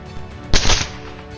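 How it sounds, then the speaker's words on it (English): Gunfire during a wild boar hunt: a single loud, sharp burst of shots lasting a fraction of a second, standing out close and harsh against a quiet outdoor background. "gunfire erupted, sweeping through the beasts in rapid bursts"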